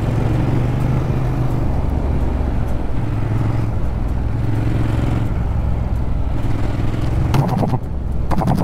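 Motorcycle riding on small mountain roads in the Dolomites, the engine a loud, steady rumble with wind noise throughout, then a brief shift in tone near the end as the rider downshifts.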